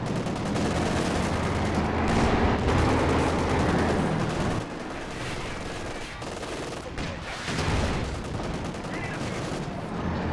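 Panzer IV tank in Company of Heroes 2 firing armour-piercing rounds amid dense, continuous battle gunfire and explosions, loud throughout with a dip midway, under some commentary.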